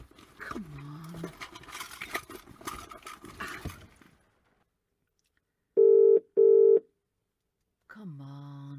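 A landline telephone being dialed, with a few seconds of voice and movement first, then two long steady electronic tones after a silence, followed by another voice-like sound.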